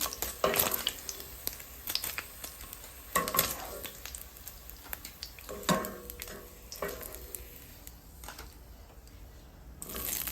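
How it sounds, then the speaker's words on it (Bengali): Eggs fry in a pan alongside paneer, with a soft steady sizzle under intermittent scraping and stirring strokes of a utensil, fairly quiet and close. "এখন ডিমগুলো ভাজবো।"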